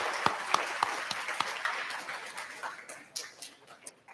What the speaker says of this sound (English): Give everyone one last round of applause.